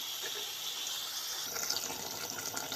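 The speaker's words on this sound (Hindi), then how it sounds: "इसमें हल्का सा पानी डालूँगी, तकरीबन आधा गिलास।" Water from a half glass poured into a pot of sweet potato curry makes a steady splashing, gushing sound, close and continuous, with no talk.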